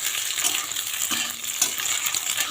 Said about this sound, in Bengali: তো এটা ভালো করে ভেজে নিই।